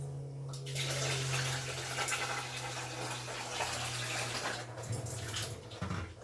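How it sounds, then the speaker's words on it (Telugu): Rice being washed in a home kitchen under strong, steady running water that splashes loudly and continuously, with a brief lull and some sloshing near the end. "ఇంకా బియ్యం అయితే కడుగుతున్నా అండి"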